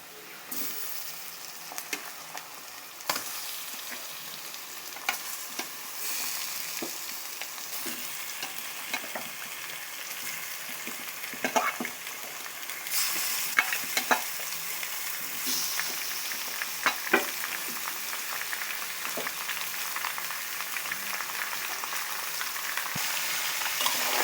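Marinated chicken pieces fry in oil with browned ginger, garlic and chopped onion, giving a soft continuous sizzle broken by occasional stirring clicks and scrapes, with no voices.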